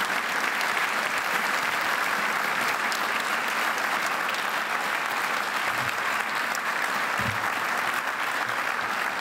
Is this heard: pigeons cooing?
no